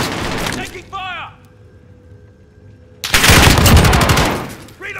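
Automatic gunfire from Call of Duty Modern Warfare gameplay, a dense loud burst at the start, a brief lull with a voice, then a heavy sustained volley of rapid shots.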